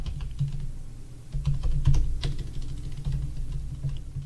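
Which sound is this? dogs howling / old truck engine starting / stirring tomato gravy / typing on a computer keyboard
typing on a computer keyboard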